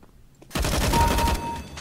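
A sudden rapid burst of loud gunfire in the video game CS:GO, starting after a quiet moment, continuing as a dense volley of shots.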